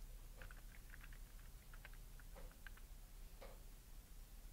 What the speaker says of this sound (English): let's type Corvette